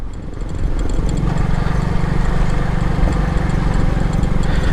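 Motorcycle engine droning steadily while riding along a barangay road in Pinamalayan, Oriental Mindoro, a loud continuous rumble with a low hum that rises slightly after the first second and holds without a break.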